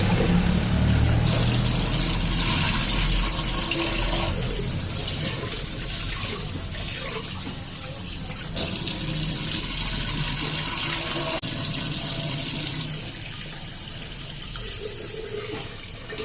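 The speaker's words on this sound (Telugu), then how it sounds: "రైస్ తీసేసాను, ఇంకా వాష్ చేసుకుంటాను ఇంక ఇప్పుడు." Tap water runs hard into a sink while rice is being washed, a loud continuous splashing rush that shifts in tone as the flow and the grains are moved about, with no speech.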